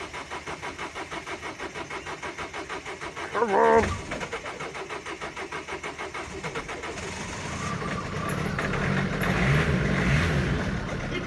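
A diesel van engine cold-starting after the glow plugs heat: several seconds of rhythmic, laboured cranking end as it catches with a rough burst, then it idles unevenly and revs up louder, with a brief shout partway through.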